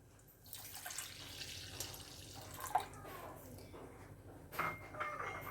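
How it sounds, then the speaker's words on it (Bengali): One cup of liquid milk is poured into simmering masala tea, a soft splashing pour with gentle gurgles and a few louder spills, fairly quiet overall. "এখন এর ভিতর আমি অ্যাড করব 1 কাপ লিকুইড দুধ।"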